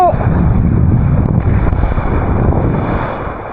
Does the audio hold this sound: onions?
no